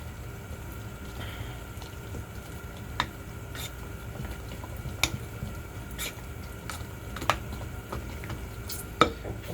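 Ricotta and Parmesan manicotti filling being mixed in a bowl: soft, quiet stirring with a few sharp spoon clicks against the bowl over a low background hum.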